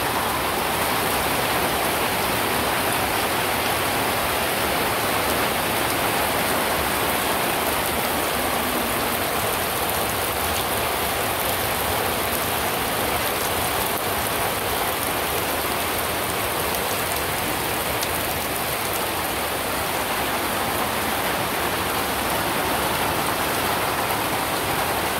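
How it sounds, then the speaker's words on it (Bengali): Heavy rain pours down steadily, a dense, continuous hiss of drops drumming on surfaces, loud and unbroken throughout with no voices. "তখন রান্নাবাড়ি করার সময় জোর বৃষ্টি নামলো"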